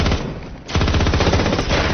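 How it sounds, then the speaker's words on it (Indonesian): Loud, close machine gun fire from an action film shootout, a rapid continuous rattle of shots after a brief dip. "kemunculan sekelompok bersenjata yang langsung memberondong mereka dengan peluru"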